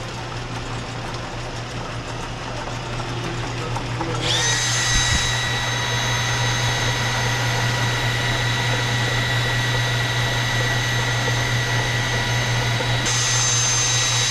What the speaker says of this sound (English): But that's normal lathe speed.